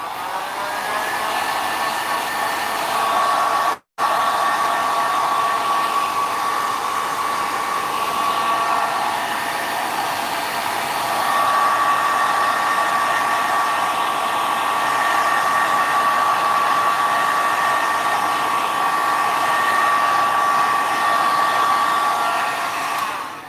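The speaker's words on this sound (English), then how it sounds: "So I'm just going to use the heat gun a little bit real quick and give this a little bit of extra drying." A heat gun blows steadily to dry an acrylic paint pour on an MDF Australia-shaped board, producing a loud, continuous whirring roar with a steady high whine that cuts out for an instant near the start.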